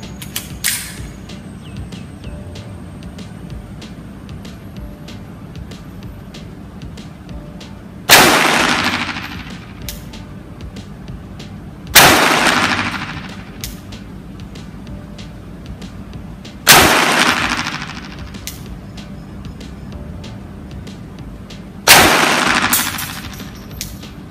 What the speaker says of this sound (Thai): ทีนี้ผมจะยิงไอ้เจ้าตัวก๊อก44นะครับซ้ำไปที่ตรงกลาง X